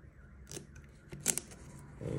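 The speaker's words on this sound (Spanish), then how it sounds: "es el de plástico cuando se va a desempacar un nuevo smartphone." Plastic wrapping crinkles and tears as a new Infinix Note 30 Pro smartphone is unpacked, with a few brief close rustles and snips at moderate loudness and no talking.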